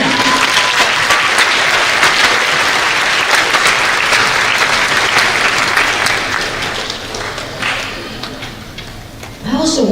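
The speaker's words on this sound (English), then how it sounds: "let's have a round of applause for them." Audience at a ceremony clapping loudly and steadily, the applause tapering gradually near the end before a voice begins speaking.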